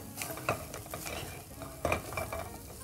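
Meat fries with chopped onion, capsicum and green chilli in a pan without extra oil, a soft sizzle underneath as a spatula stirs and scrapes in several distinct strokes.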